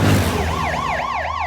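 An ambulance siren wails loud and close, its rising and falling tone repeating quickly over a low vehicle rumble.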